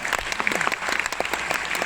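Steady audience applause at a student award ceremony in Raigarh, a dense crowd of clapping hands sustained evenly throughout, fairly close and without pause.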